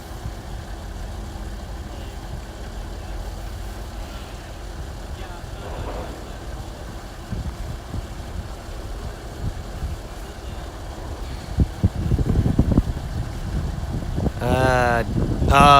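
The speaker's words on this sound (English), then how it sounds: "That noise you hear is Drayton's ghetto van idling to keep his phone charged" A van engine idles with a steady low rumble throughout, joined near the end by louder clunks and a brief rising whine.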